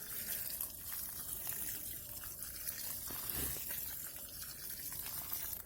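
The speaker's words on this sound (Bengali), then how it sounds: "এবার খালি এতে জল দিয়ে দেবো" Water poured from a mug onto a newly planted plant in freshly dug garden soil makes a soft, steady trickling splash, faint and close, running for several seconds with a brief gurgle midway and no talking.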